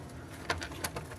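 Soft cooing from a Firozpuri pigeon pair in a few short bursts, somewhat distant, over a low background hum.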